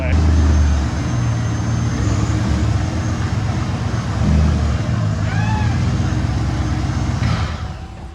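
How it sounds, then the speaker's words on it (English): A Corvette engine runs with a loud, rough, low drone like a van with its mufflers removed, idling close by, with talk over it before it cuts off near the end. "he's shut off the only Corvette in the world that sounds like an express van with the mufflers hacked off"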